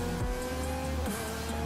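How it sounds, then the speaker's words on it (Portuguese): Revving engine of a modded car in GTA 5, a loud continuous roar with a rising pitch sweep early on and another surge about a second in, steady and close throughout. "Ó o carro acelerando."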